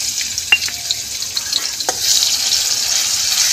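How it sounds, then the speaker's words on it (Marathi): Garlic, green chili and cumin hit hot oil with a steady sizzle, a few sharp crackles and spatters poking out early, then the frying hiss swells louder and stays even to the end. "आता आपण ही लसूण मिरची आणि जिरे चिचून घेतलेला आता आपण टाकूया तेलात."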